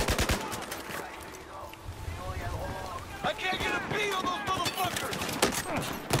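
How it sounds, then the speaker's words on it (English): Gunfire in the video game Battlefield 4: bursts of shots and rapid automatic fire run steadily through the clip, mixed with game sounds and overlapping voices. "Who's shooting me from behind?"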